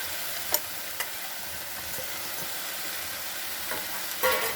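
Capsicum stirred into frying onions in a pan gives a steady, even sizzle throughout, with a few faint clicks of a utensil against the pan.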